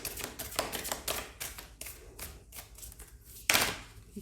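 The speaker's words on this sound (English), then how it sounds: "so I'll just shuffle again" Tarot cards being shuffled by hand, a quick run of soft flicking riffles and taps close up, ending in one sharper snap of the deck, with no talking.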